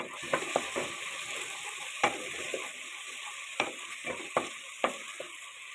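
Onions and green chillies fry in a pan, giving a soft, steady sizzle with intermittent scraping clicks as a spoon stirs them, close and fairly quiet.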